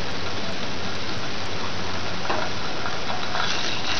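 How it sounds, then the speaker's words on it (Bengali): Garlic paste sizzling loudly in hot butter in a pan, with a steady dense hiss of frying under occasional scraping as it is stirred, close and continuous. "আঁচটাকে একদম লোতে দিয়ে প্রথমে আমি একটু রসুনটাকে নেড়ে চেড়ে নেব।"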